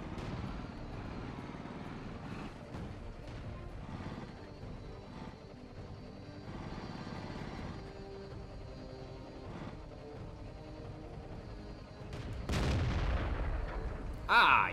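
Heavy cannon fire from a tank in World of Tanks, booming over a continuous low engine rumble, with the loudest blasts near the end.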